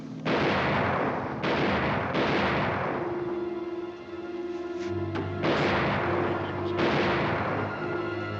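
Heavy gunfire rings out in a film battle scene: a series of loud, booming shots about a second apart, each trailing into a rumbling echo, with no speech.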